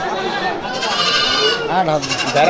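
Goats and sheep bleat at a busy village livestock market, loud overlapping calls close by, mixed with constant crowd chatter and nearby voices.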